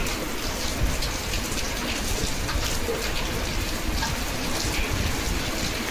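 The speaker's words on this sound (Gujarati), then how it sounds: "આ જો ચોખ્ખો વરસાદ દેખાય, ચોખ્ખો નેચરલી યુઝો નેચરલી." Steady rain pours down, a constant dense hiss of drops on surfaces filling the whole scene with no pauses.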